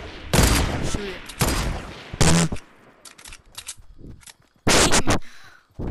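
Several loud gunshots ring out in a Fortnite match, sharp separate cracks in an irregular rhythm, some in quick pairs, with quieter game sounds between them.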